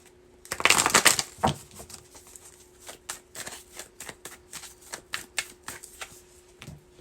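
Tarot cards shuffled in a rapid burst, followed by a steady series of crisp, close card snaps and flicks as cards are drawn one by one, with no talking.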